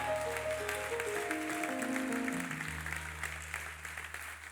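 A church congregation applauding during a Sunday service, steady clapping under sustained keyboard chords that shift in pitch, fading slightly toward the end.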